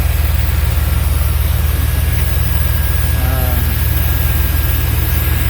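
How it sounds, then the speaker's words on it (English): A 1995 dually pickup truck with 200k miles, freshly treated with Seafoam, idles steadily up close, its low, even engine rumble holding without any revving. "I'll rev it up here in a second"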